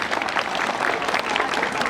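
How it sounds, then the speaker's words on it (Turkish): Applause from a school audience welcoming a returning teacher at a Turkish school, a dense, steady wash of many hands clapping at once, fairly loud and sustained throughout without a break. "alkışlayın"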